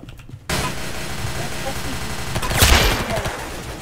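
Micro Uzi gunfire in Roblox Arsenal rattles as a rapid continuous burst for several seconds, loud and close, peaking near the end, with a voice speaking over it.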